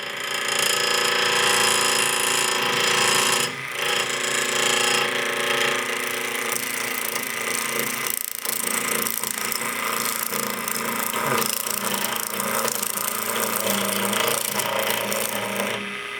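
A woodturning gouge cuts wood on a lathe, its edge riding the bevel and peeling fine shavings as a steady, loud, rasping hiss. A brief pause near the start and another about halfway through break the continuous close cutting.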